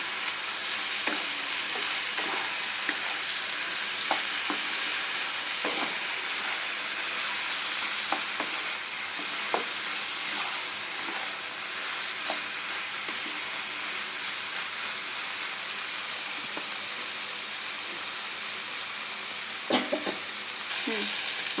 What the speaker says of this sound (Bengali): আমি এই ডিঙুরটা মশলা দিয়ে পাঁচ সাত মিনিট কষে নিলাম